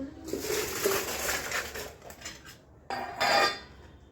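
Green chilli pickle spices being mixed in a bowl, with close scraping and rattling of a spoon against the dish, a pause, then a louder burst of rough stirring.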